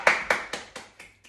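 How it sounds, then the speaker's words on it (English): Six spaced hand claps, sharp and close at first, then fading softer and slower, from children in a small taekwondo class. "give yourself a clap"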